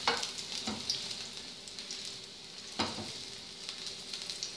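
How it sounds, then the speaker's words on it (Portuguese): Garlic frying in a little oil in a pan, a soft continuous sizzle with two brief stirring scrapes, quiet and close. "E dourar alho, um pouquinho de alho."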